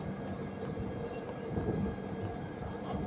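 Shatabdi Express train number 12025 pulling away from Wadi junction, with a steady close rumble of the moving train and rolling wheel noise that holds at a constant level throughout.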